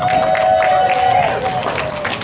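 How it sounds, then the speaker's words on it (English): A crowd in the bleachers at a varsity soccer spirit game claps and cheers for the players, a loud, steady wash of applause and crowd noise with voices mixed in, close and continuous throughout. "Let's give all the players a big round of applause."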